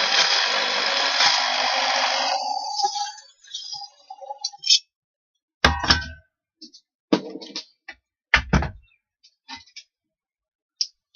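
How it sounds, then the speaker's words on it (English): Metal clicks and clangs as a power drill is used as a reamer to enlarge holes in a portable rocket stove. A steady whirring opens the sequence, followed by sparse sharp taps and clinks separated by quiet gaps. "I use the drill as a reamer."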